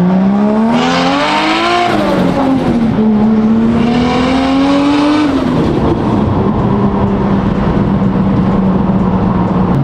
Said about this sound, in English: You gotta love the external wastegate sound, and you've actually gated the wastegate to the side.